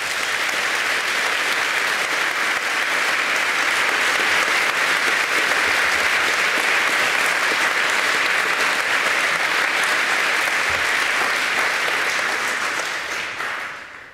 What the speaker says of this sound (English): you deserve an applaud as well